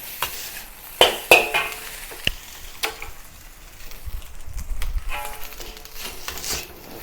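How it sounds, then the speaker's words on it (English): Mushroom fried rice with egg, carrot and peas being stir-fried in a pan over medium heat, with a few sharp spatula scrapes and taps early on over a steady soft sizzle and rustle of grains. "So now I start to fry the rice at the medium heat to make it even drier."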